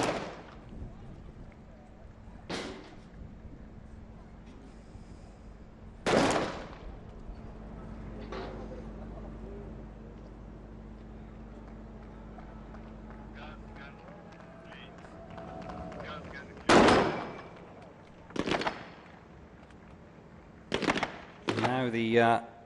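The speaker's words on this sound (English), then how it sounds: "the first shot is a miss for the Abu Dhabi Police C team sniper" Scattered single rifle shots from an Abu Dhabi Police sniper at the UAE SWAT Challenge 2024, sharp cracks spaced seconds apart with a quicker cluster near the end, heard against a steady low outdoor hum.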